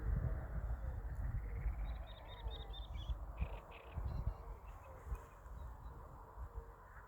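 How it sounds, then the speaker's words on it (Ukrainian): Starlings perched on overhead wires beside a lake with dry reeds give short, high chattering calls in brief clusters over steady outdoor background noise, fairly faint and at a distance. "На дротах сидять шпаки"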